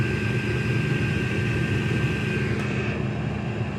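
A repaired portable generator engine runs steadily with a low droning hum and a faint whine, holding an even level for a few seconds with no voices.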